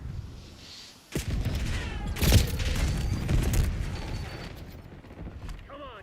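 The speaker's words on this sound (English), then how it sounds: "Flashbang." A flashbang grenade going off in Call of Duty Black Ops 6 hits as a sudden loud bang. A long, harsh wash of ringing noise follows and slowly fades, with game effects underneath.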